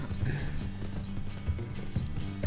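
Horse hooves clip-clop steadily in Red Dead Redemption 2, a rhythmic run of hoofbeats mixed with game ambience and faint mechanical rattling, heard without any talk.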